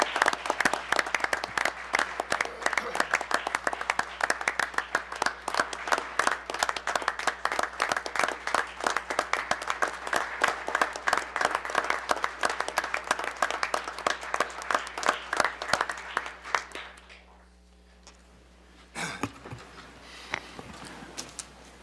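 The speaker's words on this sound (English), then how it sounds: "Will you all please join me in a final round of applause for each of our dedicated public servants and their family." Sustained applause from an audience at a commission reorganization meeting honoring public servants and their families, dense steady clapping for about seventeen seconds before thinning out, with a few scattered claps trailing near the end.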